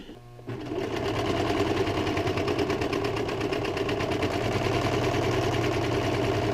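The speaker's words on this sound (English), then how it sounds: "Now, got the serger." After a brief quiet start, a serger overlock machine starts up and runs continuously at a fast, steady, rattling pace, close and loud, while stitching the side of an accordion-style fabric face mask.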